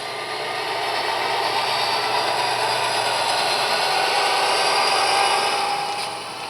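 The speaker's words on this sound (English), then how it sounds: "Sometimes I like to do that just to hear that nice SD40 rev up like that." A model railroad SD40 diesel locomotive revs up on a layout, a steady droning engine roar that swells gradually, holds, and eases off at the end.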